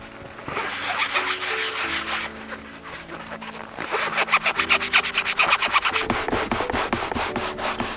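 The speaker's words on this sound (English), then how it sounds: "First, we're gonna use a little leather detailer with this microfiber." Microfiber cloth rubbing leather detailer into a leather surface, a steady close-up scrubbing and wiping with brief changes in stroke, no voices.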